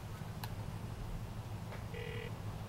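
A phone dialing a call in the video game Grand Theft Auto IV: a brief two-tone keypad beep near the end over a steady low hum, with faint clicks earlier and no talking.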